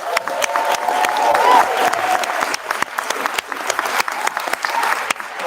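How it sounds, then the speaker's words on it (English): An audience applauds graduates steadily for several seconds at a writers' showcase, a dense wash of clapping from a crowd. "Can we give a round of applause to all of the graduates?"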